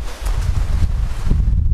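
Strong wind buffets the microphone at a lakeshore during perch fishing, a steady low rumble and roar with gusty surges throughout and no talking.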